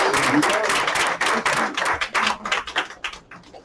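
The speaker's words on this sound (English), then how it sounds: "y'all please give James Flo another round of applause" An audience at a poetry group gathering applauds a poet, brisk close claps that thin out into scattered individual claps toward the end, with some talk mixed in.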